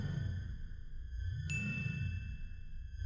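A single bright notification ding rings out sharply and hangs in a clean sustained tone, over a low muffled background bed.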